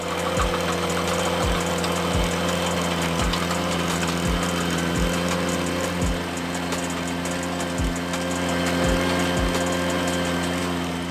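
A tractor engine runs steadily while digging a trench, giving a continuous mid-pitched drone with regular low thumps roughly every second, close and fairly loud, with no talking.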